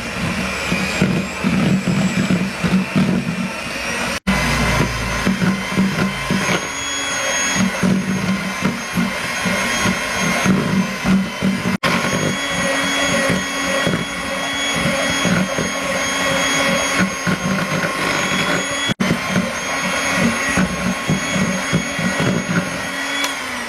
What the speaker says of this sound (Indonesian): Kita mixer sebentar sampai dia rata. Pakai kecepatan rendah.